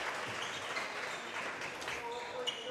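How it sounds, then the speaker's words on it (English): A home crowd at a North Dakota high school boys basketball game in Trenton gives a round of applause, a fairly faint, steady patter heard behind a commentator's speech. "Good round of applause from the Rancher faithful here in Trenton"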